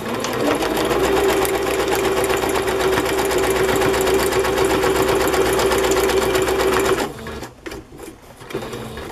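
A sewing machine stitches through a paper craft journal page in a steady, rapid mechanical whir that runs for about seven seconds, then stops, leaving a few faint handling sounds.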